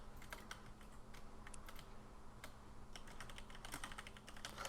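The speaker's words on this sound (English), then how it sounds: "I am horrible at typing." Rapid, uneven keystrokes clatter on a computer keyboard, a quiet close run of clicks in bursts with brief pauses, against a low steady hum and no talking.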